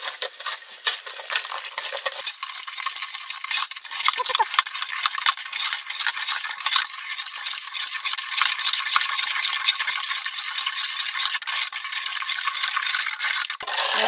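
A homemade cleaning product is stirred with hot water inside a bottle, gradually diluting it in a camping-car. A steady, bright swishing and scraping continues for the whole stretch, with no voices.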